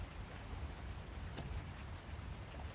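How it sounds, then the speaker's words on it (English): Rain falls outdoors as a faint, even hiss of drops, steady throughout the few seconds and without voices. "I like to hear the rain."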